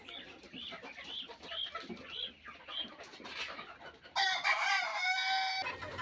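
Chickens and a rooster at a poultry farm cluck repeatedly at close range, then a rooster crows loudly near the end over a soft background of farm birds.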